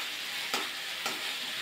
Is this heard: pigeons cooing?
no